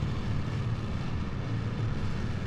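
Kerbal Space Program rocket engines roar at launch with a steady, loud, low rumbling thrust that holds constant throughout, with no voices.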